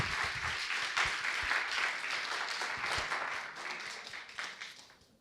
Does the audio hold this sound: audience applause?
yes